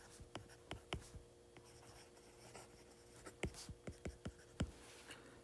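A pen writes an equation on paper, a close, quiet series of irregular scratchy strokes with short pauses between them.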